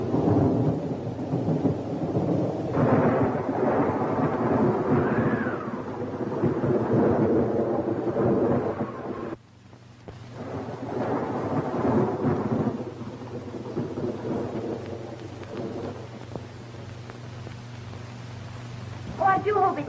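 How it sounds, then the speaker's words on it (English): Rain falls steadily outside with deep rolling thunder in a dramatised period household scene, the storm swelling loud then briefly dropping away before resuming, while people talk over it. "Oh, I do hope it stops raining before Mr. Frank's train gets in."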